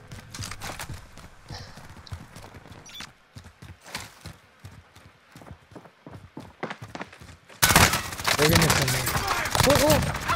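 Gunfire in Call of Duty: Modern Warfare, a series of sharp, scattered shots popping at mid distance, followed by a louder burst of dense, sustained firing near the end, with no speech over it.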